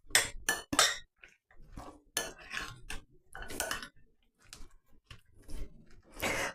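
Chopped apples being stirred in a bowl for apple strudel, a series of irregular clinking, scraping knocks of a spoon against the bowl, close and fairly loud, with short pauses between strokes.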